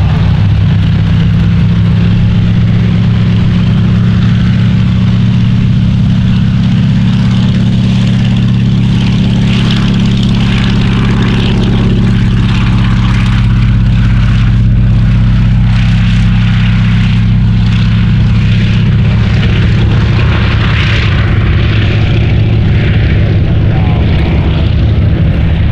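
Fairey Swordfish 1 biplane flying at a Shuttleworth air show, a loud, steady propeller-engine drone with a deep throbbing hum that holds for the whole stretch.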